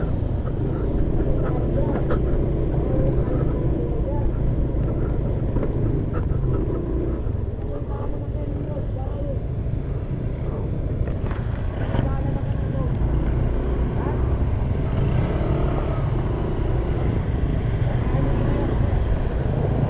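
Motorcycle fording a river on the Kennon Road detour near Baguio City, with a continuous low engine rumble mixed with rushing water and wind noise, a few faint clunks of stones heard along the way.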